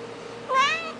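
A house cat gives a single short, rising-then-falling meow, close and fairly clear over a quiet room hum.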